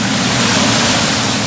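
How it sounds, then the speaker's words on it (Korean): Rushing water pours steadily toward the Sea of Galilee in Israel, swollen by rainy-season runoff, a loud, dense, unbroken roar close by with no voices. "멀리서부터 들려오던 물소리, 직접 보니 더 시원했습니다"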